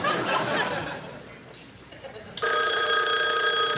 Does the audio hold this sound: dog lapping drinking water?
no